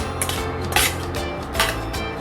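Grated egg is tossed into chowmein in a pan, with repeated clattering scrapes and knocks of a utensil against metal, close and fairly loud.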